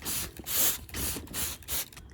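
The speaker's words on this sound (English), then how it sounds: "I'm just going to spray it a little." Spray bottle misting water onto lima beans in a bowl, five quick hissing spritzes in a steady rhythm, close and alone.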